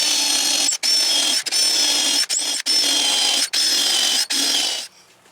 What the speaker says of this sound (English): Then we'll climb inside, drill from the bottom, get that screwed in.